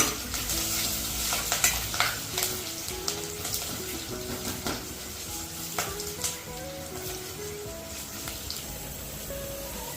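Ingredients for pongal sizzle and fry steadily in a pan, with a spoon scraping and stirring through them at intervals; no voices.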